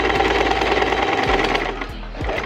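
Home sewing machine running steadily at the longest stitch length with tension set at 8 while sewing a shirred kaftan dress, a continuous loud mechanical whir with a few light knocks toward the end.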